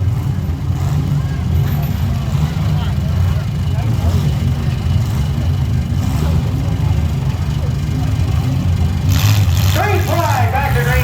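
Mini trucks, vans and SUVs racing on a track at Paris, Illinois, a steady loud engine roar sustained throughout with passing vehicles, a brief higher whine near the end.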